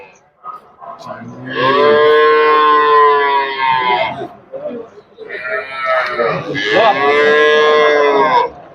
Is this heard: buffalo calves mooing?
yes